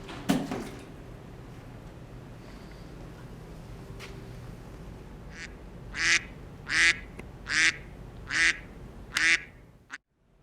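Ducks quack in a burst of five or six loud, evenly spaced calls near the end. Before that, a quiet background hiss and a few faint clicks come from a rain-soaked building with a leaking roof.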